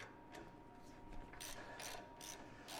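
A ratchet wrench spins bolts off the front of a Kubota BX tractor. Quiet bursts of fast mechanical clicking come in short runs close by, separated by brief pauses.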